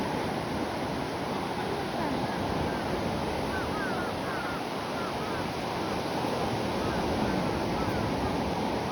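Sea surf breaking on a Japanese shore, a continuous broad wash of water roughened by wind noise against the microphone, steady and fairly loud, with no clear voices.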